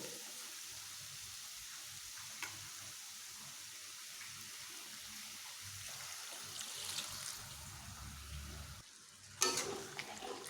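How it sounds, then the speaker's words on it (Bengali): Yardlong beans sizzle quietly in a pan, and then splashed-in water sets off a sudden, louder burst of hissing near the end. "এবার আমি এখানে একটু জল অ্যাড করবো"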